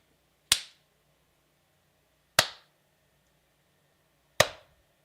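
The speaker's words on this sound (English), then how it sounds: "Try a clap." Three sharp hand claps, evenly spaced about two seconds apart, each a crisp close smack with a short decaying tail over a faint room hum, struck as an audio sync test.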